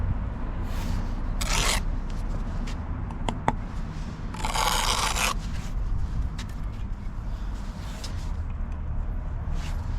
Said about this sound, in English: after a while you just scrape the mortar